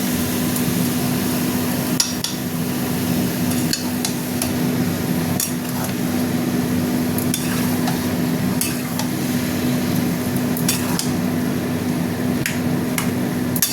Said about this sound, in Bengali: এখানে নাড়তে হবে, অল্প একটু জল দেবো, নাহলে তলায় লেগে যাচ্ছে।